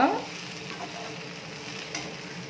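Chili powder and coriander powder stirred briefly through an okra curry in a frying pan, giving a soft, steady scrape and low sizzle that is a little louder at the start, with no talking.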